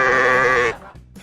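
A goat gives one loud, wavering bleat up close, then it cuts off into quiet background noise.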